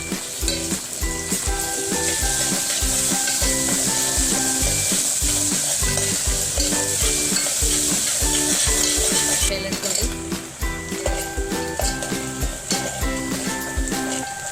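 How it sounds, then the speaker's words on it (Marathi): Onion and chillies fry with ginger-garlic paste in a pan, producing a continuous, fairly loud sizzle with occasional stirring clinks beneath a steady layer of tonal background music. "कांदा छान आपला भाजून झालेला आहे, यामध्ये आपल्याला अद्रक आणि लसूणची पेस्ट टाकायची।"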